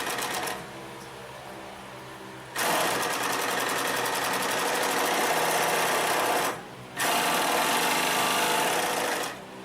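A Consew 227R-2 cylinder arm walking foot sewing machine stitches in loud, steady bursts of rapid mechanical chatter, with two short pauses between runs and no talking.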